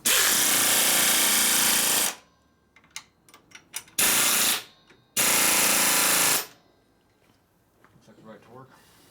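A pneumatic impact wrench tightens engine case bolts on a 1972 Harley-Davidson Sportster Ironhead. It fires in three loud, close bursts of harsh rattling hammering, each lasting one to two seconds, with quieter clicks and handling noise in the gaps.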